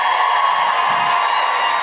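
A live audience at a comedy show at Club Soda cheers and applauds before holiday guests come on stage: a dense, steady wash of crowd noise, loud and close, holding for a couple of seconds without a break.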